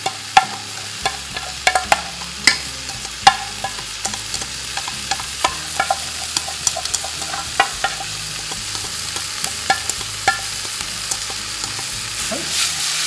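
Pork bulgogi with assorted vegetables fries in a pan without added sesame oil, giving a steady sizzle broken by frequent sharp clicks and scrapes of a utensil stirring, close and fairly loud throughout.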